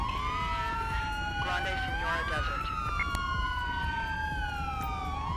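Wailing police siren on a 2014 BMW R1200RT CHP patrol motorcycle in GTA 5, continuous sweeping tones close and loud, with someone talking over it.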